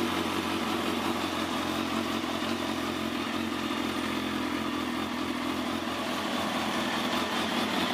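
A 2005 Kawasaki ZX10 sportbike fitted with a Power Commander idles steadily after a cold start, not in gear, its engine note a continuous close, even rumble with light mechanical clatter and no voices.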